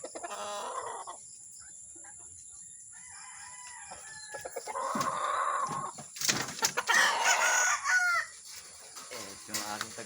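A prize-winning rooster on a farm crows and clucks, a few short calls followed by louder, ragged crowing bursts in the second half, close by with faint background voices.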